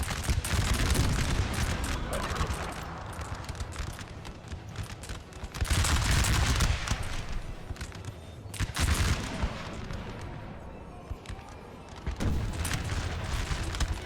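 Musket volleys roll across a Napoleon Total War battlefield, a dense crackling fusillade of broad bursts that swells and falls over a constant din of battle, with loud waves recurring every few seconds.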